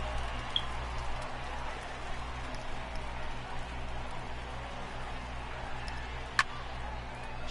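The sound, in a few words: heavy rain falling on a baseball field in the video game MLB The Show 18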